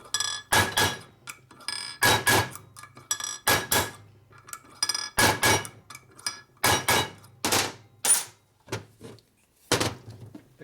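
A punch is hammered on a part of a 1967 74ci Harley shovelhead engine, peening it over in a series of sharp, close metallic taps. The strikes come in irregular bursts, some quick doubles and triples, with no talking.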